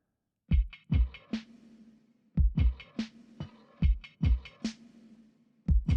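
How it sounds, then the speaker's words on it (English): Processed percussive hits built from a wooden spoon scraping against a bowl, with sharp attacks and a low thump, ringing with a metallic harmonic tone, arranged in a syncopated rhythmic drum pattern, loud and close. "is literally a wooden spoon scraping against a bowl, then processed"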